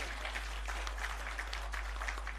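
Audience applause at a public gathering, a continuous dense patter of many hands clapping, steady and fairly even throughout.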